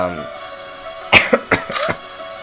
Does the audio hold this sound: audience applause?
no